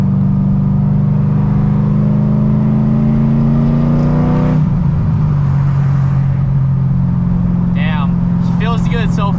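Straight-piped Corvette Z06 accelerating on the road, a loud, close engine drone rising steadily in pitch before easing off, with a voice speaking briefly near the end.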